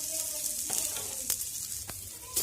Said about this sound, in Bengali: এটা শুকনো কড়াইয়ে ভেজে নিচ্ছি অল্প।